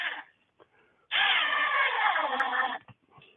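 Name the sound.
power drill drilling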